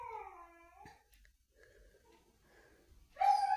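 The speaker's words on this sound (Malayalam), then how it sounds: "ഞങ്ങളുടെ പട്ടിക്കുട്ടി മിസ്സി അവിടെ കരയുന്നുണ്ട്, അതിൻ്റെ ഒരു ശബ്ദവും കൂടെ ഉണ്ട് കേട്ടോ" A puppy whining in high, wavering cries, heard near and fairly faint, with a short burst at the start and a louder one at the end separated by quiet snuffling.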